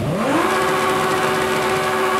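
Engine of a 5.2-litre V10 car in a racing video game revs steadily, a sustained loud mid-pitched drone holding one tone after a quick rise, heard alone and close.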